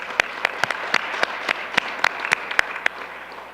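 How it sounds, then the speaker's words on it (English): Applause at a town council meeting: a small group clapping steadily at moderate volume, with distinct individual claps standing out over a continuous patter for several seconds, with no talking. "I'd love a round of applause for Allison's efforts"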